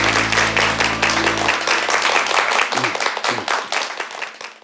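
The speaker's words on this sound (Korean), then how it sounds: "박수를 청해 드릴게요." Studio audience applause at a Korean TV lecture, a dense burst of clapping that carries on steadily and loudly throughout, with no talking over it.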